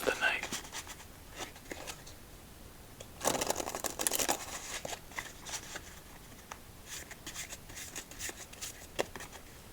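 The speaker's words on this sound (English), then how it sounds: "let's give this deck 2 more shuffles" A Japanese-themed playing card deck is shuffled close up in a quiet room, giving two bursts of crisp riffling and shuffling with light handling noises in between, and soft speech in places.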